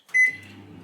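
Microwave oven heating chicken curry gives a short bright electronic beep, followed by a low steady hum as the unit runs, close and alone.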